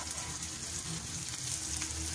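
Boiled macaroni and peas go into a hot pan of oil, giving a steady, close sizzle and fry hiss that holds at an even level throughout with no talking.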